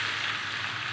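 Khichdi masala sizzles steadily in a hot pan as rice goes in, a dense, even frying hiss that holds unbroken for a second, close and fairly loud.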